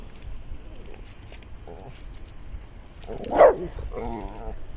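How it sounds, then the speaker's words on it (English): A dog gives a few short barks and whimpers at a distance, one sharper yelp standing out, with a quiet outdoor background. "Don't need you barking at it."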